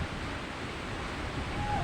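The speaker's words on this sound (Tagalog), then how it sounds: "Yan, simula na yung hangin." Steady roaring wind of Typhoon Uwan just beginning to pick up, a continuous broadband rush with gusty low rumble, loud and close, with no one speaking over it.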